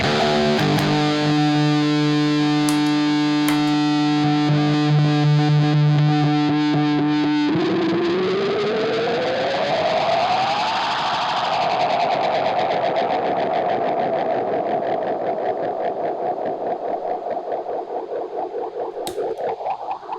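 Electric guitar run through an echo unit on a pedalboard, playing the ending of a piece: sustained distorted chords give way to a rising pitch dive and a long, swirling echoing tail that slowly fades, loud and alone.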